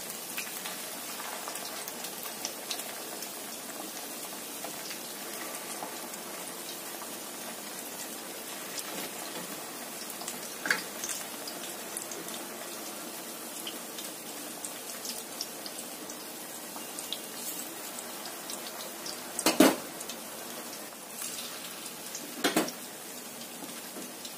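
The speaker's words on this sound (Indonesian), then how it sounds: "Goreng sampai kuning keemasan." Snacks frying in hot oil until golden brown, giving a steady soft sizzle and crackle throughout, with a few sharper pops and spatters near the end and no talking.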